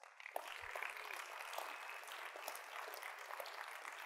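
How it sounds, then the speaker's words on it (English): A crowd applauds at a liberty-themed event, a steady wash of clapping that starts abruptly and stays fairly even, heard through a thin, band-limited recording. "Let's give it up for Freedom Fest."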